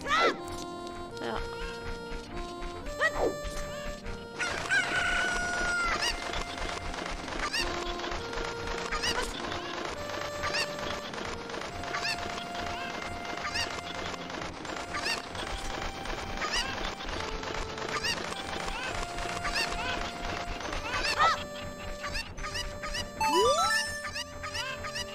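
Chickens clucking in the video game Zelda: Ocarina of Time, heard as several short squawks and clucks layered over continuous game music, with a voice talking in the background.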